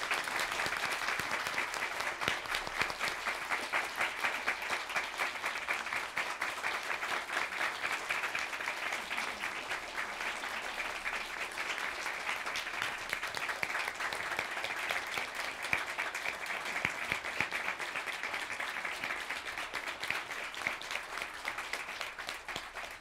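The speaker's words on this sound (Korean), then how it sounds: "여러분 다 뜨거운 박수 부탁드립니다." A congregation applauds steadily in a church during a thank-you flower presentation for a pastor and his wife, dense even clapping sustained for over twenty seconds with no talk over it.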